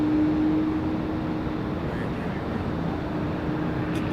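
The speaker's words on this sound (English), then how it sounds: "MD-11's taking off" A McDonnell Douglas MD-11 airliner taking off at Raleigh-Durham International Airport, heard as a steady, broad engine roar with a low hum running underneath, continuous and fairly loud throughout, with no voices.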